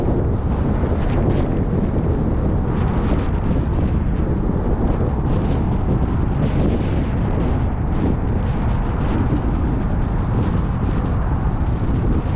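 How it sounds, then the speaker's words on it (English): Strong gusting wind buffets the microphone on a windy day at a model plane flying field, a loud continuous broadband roar filling the whole stretch with no talk. "It's more windier than last time."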